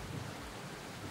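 Rain falling with a low thunder rumble in the video game Coffee Talk, a steady, even wash of rainfall sounding alone for about a second.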